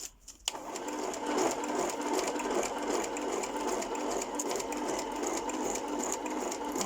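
A sewing machine sews a zigzag stitch on a pocket. It whirs steadily and close up for the whole stretch, starting after a brief click.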